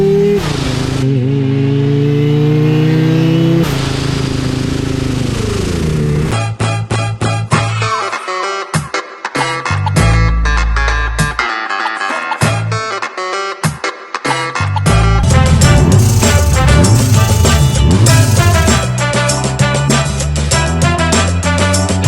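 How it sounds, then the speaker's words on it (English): Supercharged 2 litre 1971 Datsun 510 drift car engine revving hard and loud, sweeping up and down with choppy bursts and brief cuts, then a sustained high-rpm roar with rattling and clatter. "We have a 1971 Datsun with a 2 litre with a supercharger on a switch."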